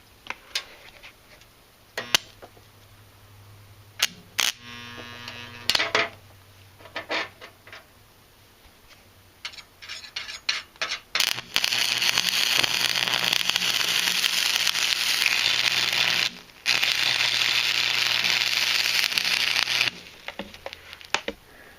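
A Campbell Hausfeld WS0990 115-volt stick welder running hot on a metal bar, burning through its side. A few sparse ticks and taps come first, then a loud, steady crackling hiss lasts about ten seconds, with one brief break.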